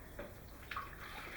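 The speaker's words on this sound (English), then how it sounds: "Now we're going to add water." Water is poured into a drink, a soft, steady liquid stream running quietly for a moment with a slight splash near the end.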